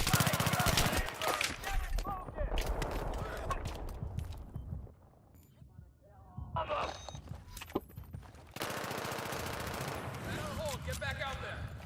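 Gunfire from the video game Battlefield 3 on PS3, dense bursts of shots and rattling automatic fire through much of the stretch, dropping back briefly in the middle, with players talking over it.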